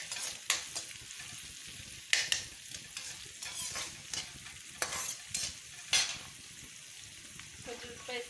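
Chopped onions fry in oil in a pan, a soft steady sizzle broken by the clinks and scrapes of a spoon stirring now and then, close and fairly quiet.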